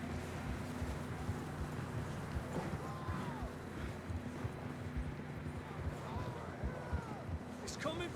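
Steady clip-clop of horse hooves at a walk in the video game Red Dead Redemption 2, over a constant outdoor background, with a brief higher whinny-like sound near the end.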